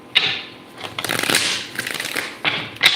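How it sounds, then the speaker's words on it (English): Tarot cards are shuffled by hand in a few quick riffling bursts, crisp and close, with short pauses between them and no talking. "4 more shuffles."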